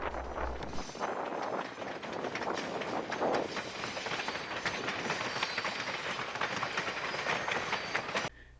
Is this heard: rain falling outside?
no